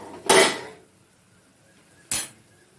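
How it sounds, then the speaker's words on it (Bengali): A metal lid lifted off a cooking pot of kachurlati with prawns, two short clanks about two seconds apart, close and fairly loud with quiet between. "5 মিনিট হয়ে গেছে, একটু ঢাকনা তুলে দেখে নিচ্ছি।"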